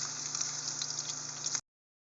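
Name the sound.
ginger sizzling as it browns in a pan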